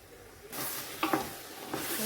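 Tomatoes sizzle in a pan as they are sautéed and stirred for a large chicken biryani, a sudden hissing fry starting up, with a few scraping stirs punctuating the steady sizzle.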